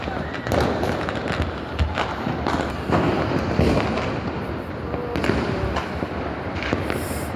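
New Year fireworks burst continuously overhead, a dense, loud barrage of crackling bangs and pops with sharper booms scattered throughout, and a person talks over the din.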